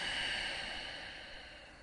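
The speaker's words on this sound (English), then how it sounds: "Deep breathing here." Deep breathing during a seated yoga twist stretch: one long, steady, airy exhale, close to the microphone, fading slightly toward its end, with no talking.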